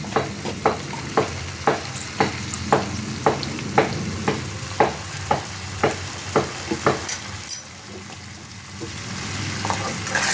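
A spoon stirs cooked squash and carrot curry with ghee in a hot pan in rhythmic scraping strokes about twice a second over a steady sizzle. The stirring stops near the end, leaving a softer frying hiss.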